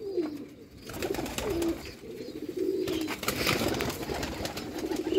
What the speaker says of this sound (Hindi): नायाब सियालकोटी दोस्तों कबूतर।